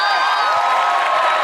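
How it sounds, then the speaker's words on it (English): A loud crowd cheers and shouts in a brief, continuous burst of overlapping voices. "Cheers. Round of applause."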